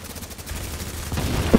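Gunfire crackles in The Division's Dark Zone, with a quick run of automatic shots rattling under dense, muffled combat noise, growing slightly louder toward the end.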